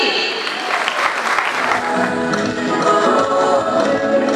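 An audience applauds at a Kenya Youth Organization launch at Bomas of Kenya, a burst of clapping that swells and then settles into a steady wash with some voices mixed in.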